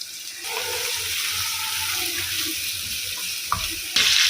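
Tomatoes go into hot oil already holding onions, making a loud, steady hiss and sizzle that fills the whole stretch, with a couple of brief clatters near the end.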